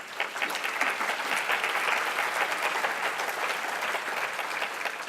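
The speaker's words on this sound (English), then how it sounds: "If we can give them a round of applause." A conference audience at a behavioural insights plenary gives a round of applause for panellists, a dense, steady wash of clapping that holds evenly throughout.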